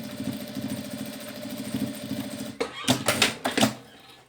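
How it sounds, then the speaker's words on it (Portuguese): A sewing machine running a safety seam on a simple wallet hums steadily up close, then stops and gives way to a few clicks and handling sounds. "E faço uma costura de segurança aqui"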